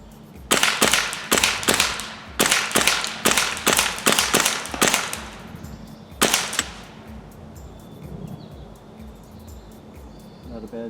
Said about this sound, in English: I'm going to shoot rapid fire, all 12.